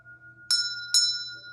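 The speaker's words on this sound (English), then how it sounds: "So I'm going to ring the bell." Two bright, clear chimes from a small bell rung during a chakra card reading, struck about half a second apart and each ringing with a short shimmering decay over a quiet background hum.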